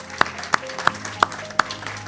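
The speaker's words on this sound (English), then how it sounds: "Let's give our honorees a round of applause." At an award ceremony honoring an Army veteran, a few sharp claps ring out one at a time, five isolated hand claps spaced roughly a third of a second apart, close and distinct over a low steady hum.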